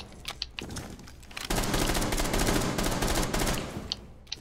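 Gunfire in the tactical shooter Rainbow Six Siege, scattered single shots giving way to a dense, sustained burst of rapid automatic fire lasting several seconds, loud and close, with no speech.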